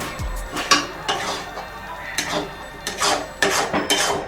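Bombay duck fish being stirred and scraped in a pan with a utensil, giving a run of irregular metallic scrapes and clinks up close, with no talking over it.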